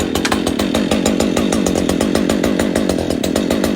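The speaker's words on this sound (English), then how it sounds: "The logs get cut down to size with a chainsaw" A chainsaw runs at full throttle, cutting logs down to size, loud and close with a steady buzzing roar and rapid pulsing chatter of the chain throughout.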